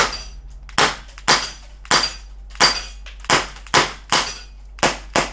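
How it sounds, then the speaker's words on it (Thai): Glock 19 CO2-powered BB pistol fired repeatedly at a target, about nine sharp snapping shots spaced roughly half a second apart, close and loud with no talking. "สำหรับเจ้าตัว G19 CO2 นี่มันโหดได้ใจมากเลยนะครับลองเปลี่ยนมาเป็นเป้าข้างหลังบ้างนะครับ"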